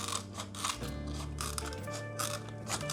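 Scissors snip through a thin plastic cola bottle, cutting a strip about 1 to 1.5 cm wide, with crisp crunching and crackling cuts close up in a steady run.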